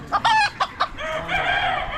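Old English game chickens, red pile birds, at an Amish animal auction, giving a few sharp close clucks in quick succession followed by a higher crow-like call, loud and without talk.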